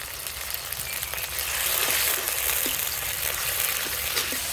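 Ginger garlic paste with garam masala and ground cumin frying in a pan, a dense close sizzle that swells slightly partway through, dotted with small spatter pops and scraping from stirring, no voices.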